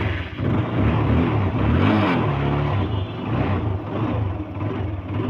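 A second-hand Apache RTR 150cc motorcycle engine runs close and loud, with a steady idle that swells briefly into a rev and settles back down. No one speaks.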